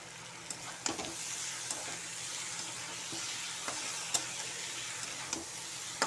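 Broccoli florets stir-fry with spices in a pan, giving a soft, even sizzle with occasional sharp ticks and clicks of a spatula, fairly faint and without talk.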